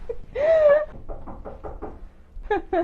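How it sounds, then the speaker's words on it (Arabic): A series of about six quick, even knocks on a door, sounding close and fairly loud, between a spoken line before it and more voices right after. "او تا شكون يدق علينا؟"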